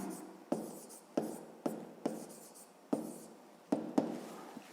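A pen scratches out a grade-five maths exercise on paper, about eight distinct strokes in an uneven rhythm, each a sharp scrape fading quickly, close and quiet with no voices.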